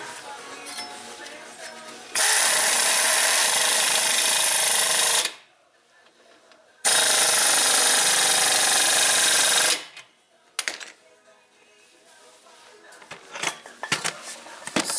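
An impact wrench on a Ford Escape tightens a ball joint nut in two loud, sustained bursts of rapid hammering, each lasting about three seconds, separated by quiet, followed by faint clinks and handling noises.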